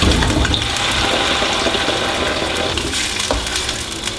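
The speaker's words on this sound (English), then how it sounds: "Just pour your crushed tomatoes." Crushed tomatoes gushing and splashing steadily into a pot, a loud continuous wet pour with bubbling hiss.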